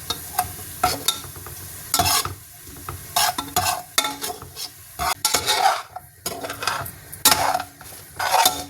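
Sambar ingredients sautéing with salt in a pan, a sizzle broken by repeated metal spatula scrapes and clanks against the pan in an irregular rhythm, close and fairly loud, no voices.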